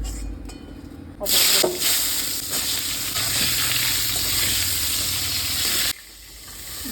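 A few pieces of eggplant fry in hot oil in a home kitchen, giving a loud, steady sizzle and hiss that starts abruptly, holds for several seconds, then drops away.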